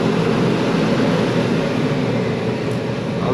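A loud, steady aircraft engine drones without a break as it throttles down. Its broad roar and low hum stay close and unbroken, with no voices on top.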